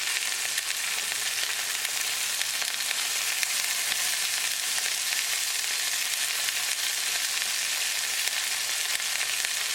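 Chicken breast frying in a hot pan with half a lemon's juice, a steady, loud, close sizzle and crackle that runs unbroken throughout with no voices.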